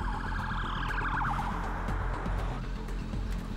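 Ambulance siren wailing in a rising and falling pattern at moderate distance, continuous over steady traffic rumble with no talking.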